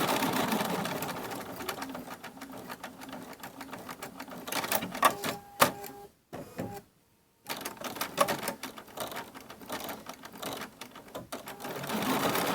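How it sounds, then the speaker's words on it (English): A sewing machine stitches down the border of a Kimberbell Cuties quilted table topper in a steady, rapid mechanical rattle, pausing briefly midway before resuming at close range without talk. "you're going to allow the machine to stitch it down"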